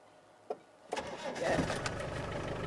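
A diesel safari vehicle's engine cranks with a couple of sharp clunks, then catches and settles into a rising, rough idle as it warms up, fairly quiet and close.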